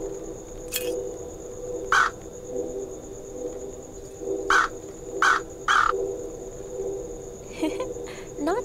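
Bird on a roof in the Anna's Quest video game: several short, sharp caws ring out at irregular intervals over a steady droning insect-like ambience, with no talk.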